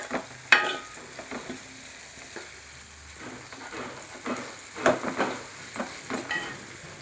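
Sliced onions frying in a pan, a soft continuous sizzle broken by occasional sharp clacks and scrapes of stirring, close and moderately quiet, with no voices.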